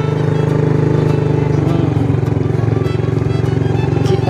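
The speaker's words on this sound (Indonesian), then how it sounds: "Kita ada bawa motor ya." A motorcycle engine runs close and loud with a steady throbbing idle, continuous and unchanging, out among the rice paddies, with faint clatter over it.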